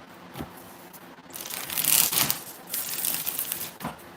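A deck of tarot cards being shuffled during a live reading, giving soft, papery riffling and crinkling bursts that swell and fade over a few seconds, close and quiet with no talk.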